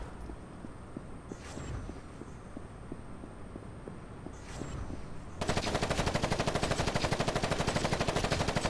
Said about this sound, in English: Oh, those look like mini guns to me.